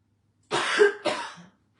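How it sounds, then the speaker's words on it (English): Two dry, harsh coughs in quick succession, close and fairly loud, with silence before and after. "This is what's driving me crazy is the dry"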